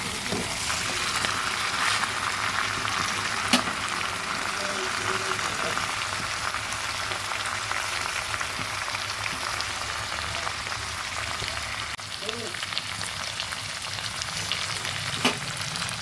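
Steady loud sizzling and frying of a papaya chicken curry throughout, as water is added, with occasional clinks and stirring sounds from a pan, no voices.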